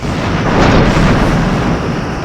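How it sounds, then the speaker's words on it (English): Torpedoes fire from a starship's forward tubes in the space combat game Star Trek Bridge Commander, a loud sustained rumbling blast that swells and holds for about two seconds with no talk. "Lining up forward torpedo tubes."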